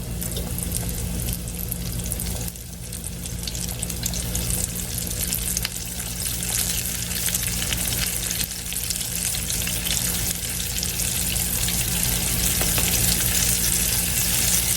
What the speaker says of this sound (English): this is only going to take a couple of minutes to fry up